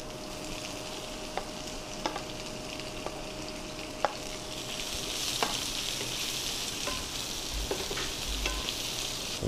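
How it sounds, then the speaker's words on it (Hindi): Sliced onions frying with garlic and chilli in a pan, a steady loud sizzle with periodic clicks and scrapes of a stirring spoon, growing slightly louder as it goes. "कटी हुई प्याज ऐड कर रहा हूँ"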